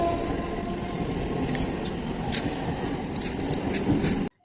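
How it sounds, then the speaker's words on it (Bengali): A train rolling past near homes and a field, a continuous loud rumble and rattle of wagons with sharp metallic clacks, cutting off abruptly at the end. "এখন ট্রেন যাচ্ছে, ওই যে ট্রেন যাচ্ছে"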